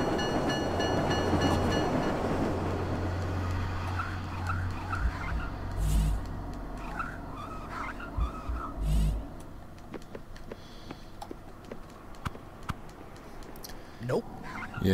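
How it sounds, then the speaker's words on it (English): Train passing in the video game Marc Ecko's Getting Up, a loud low rumble that is strongest in the first seconds and fades to a steady mechanical drone with scattered clanks, with speech over it. "Alright, now I just have to wait for this freaking train."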